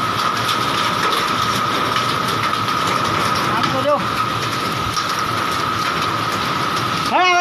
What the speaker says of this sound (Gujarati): કરા સાથે વરસાદ